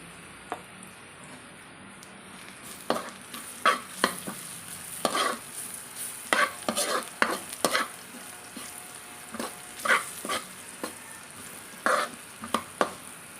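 Pork and pepper frying in a pan, a steady sizzle under repeated scraping and clattering stirring strokes, close and moderately loud.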